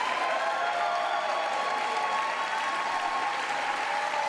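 At the 2024 State of the Union address, a large chamber crowd claps steadily, a dense, even wash of applause that holds at the same level throughout.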